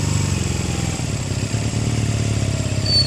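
A Rebel motorcycle engine runs at a steady low idle during slow-speed riding practice, a close, constant rumble with a faint chatter and no speech.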